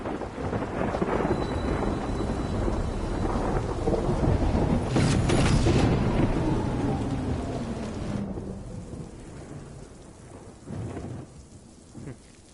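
Heavy rain with rolling thunder in a video game, a loud dense downpour with a long rumble building mid-way, then thinning to lighter patter and scattered drops, no talking.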